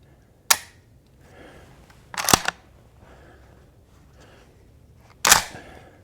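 Three sharp dry-fire clicks from the trigger of an empty Benelli Montefeltro Silver Featherweight 20 gauge shotgun, crisp and close, spaced a couple of seconds apart over a quiet background.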